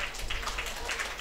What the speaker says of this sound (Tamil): அம்மாவுக்கு ஒரு ஜோராக கைத்தட்டலாமா?